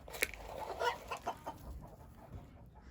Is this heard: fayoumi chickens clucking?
yes